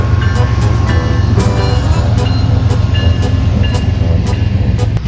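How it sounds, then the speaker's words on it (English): A CSX manifest freight train passes close by, a loud continuous low rumble of rolling wagons with repeated clanks and squeals of wheels on rail throughout. "next CSX train would prove why there was an eastbound parade of Manifest trains"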